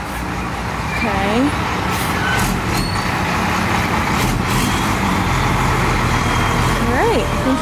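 A bus edges along a narrow road in Mexico, its engine rumbling steadily up close with brief air-brake hisses, while voices talk over the engine noise.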